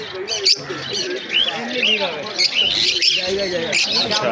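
Lutino lovebirds and finches at a busy pet bird market squawk and chirp continuously in a dense overlapping chorus, with people talking nearby underneath.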